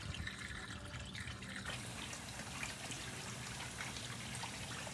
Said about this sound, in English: Filling the rest of the water up.